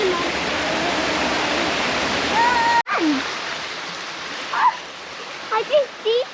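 A waterfall in Ayrshire roars as a steady broadband rush of falling water, loud and close; brief voices and a few bright vocal sounds cut in over the torrent after a sudden break.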